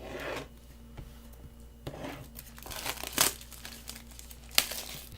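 Cardboard and plastic packaging of a Nest E thermostat being opened up close, with soft rustling crinkles throughout and a few sharper tearing bursts near the end; no talking.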